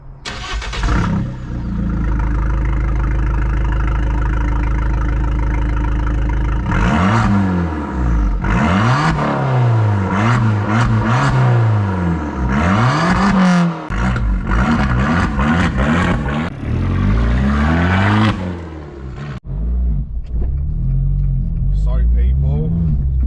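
Tuned Fiat 500 Abarth Stage 2 making about 190 brake horsepower, its engine idling loud and close before rising and falling through repeated sharp revs, steady and near throughout.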